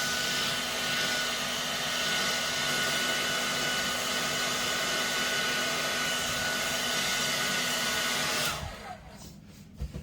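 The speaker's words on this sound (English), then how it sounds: "I'm just going to blow it with the hair dryer on the screen now." A hair dryer blows steadily on a Samsung A13 phone screen during a water damage repair, a loud, even whirring roar for about eight and a half seconds before it cuts off, leaving quiet handling noises.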